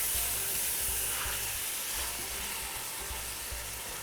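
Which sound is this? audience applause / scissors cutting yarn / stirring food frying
stirring food frying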